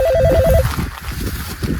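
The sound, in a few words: telephone ringing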